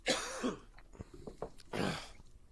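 A person coughs and clears their throat several times in quick, rough bursts, close and fairly loud.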